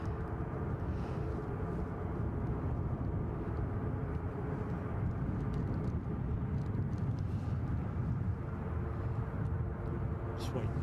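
Jet airliner heading for Heathrow from Edinburgh airport, its broad engine roar steady and loud throughout, close by and alone with no voices.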